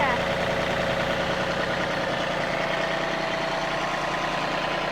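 A tractor engine runs steadily at close range while someone walks alongside on a homestead building site, a loud continuous drone with no break.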